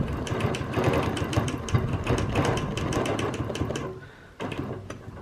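Sewing machine stitching a circle against a quilting ruler during edge-to-edge machine quilting, running loud and steady with a fast rhythmic whir, then stopping briefly before a short restart.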